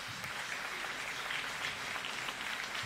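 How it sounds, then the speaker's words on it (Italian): Faint audience applause at an outdoor concert by a municipal wind band, a soft steady patter of clapping heard from a distance with no voices over it. "Facciamo già l'applauso così magari..."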